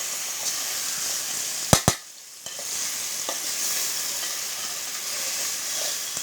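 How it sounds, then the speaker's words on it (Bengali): Rohu fish lightly frying in hot oil makes a steady close sizzle, broken early on by two sharp knocks and a brief drop, then continuing evenly with occasional soft stirring sounds. "মাছটা একটু আমি সাঁতিয়ে নিচ্ছি হালকা একটু নেড়ে ছেড়ে দেবো"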